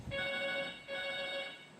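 A phone ringtone chirps out a steady electronic tone in two bursts with a short break between them, loud and close, while no one speaks.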